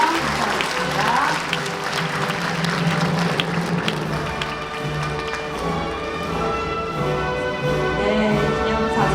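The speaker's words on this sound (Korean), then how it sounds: "여러분들 다시 한번 큰 박수로 축하해 주시면 감사하겠습니다" A hall crowd at the 104th March 1st Independence Movement Day ceremony at Cheongju Arts Center applauds in a sustained, even wash of clapping that holds for several seconds, with faint voices mixed in.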